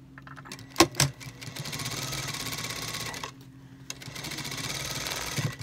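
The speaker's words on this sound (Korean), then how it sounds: "자 미싱 들어갑니다" A sewing machine stitching cotton trousers runs in a steady fast whir, pausing briefly midway before starting up again, with a couple of clicks near the start.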